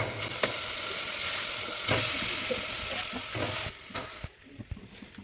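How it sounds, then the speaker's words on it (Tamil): Washed beef goes into a pressure cooker and sets off a steady, close sizzle and hiss. A few clinks and stirring knocks sound over it before the frying fades near the end. "குக்கரில் நம்ம கழுவி வச்சுருக்க பீஃபை இதில் சேர்த்துக்கலாம்."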